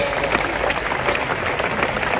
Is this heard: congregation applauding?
yes